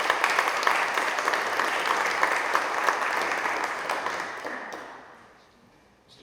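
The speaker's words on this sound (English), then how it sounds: "Give yourselves a round of applause for that." A room of attendees at an NAACP candidates night forum applauds, steady dense clapping that carries on for several seconds, then thins and fades toward the close.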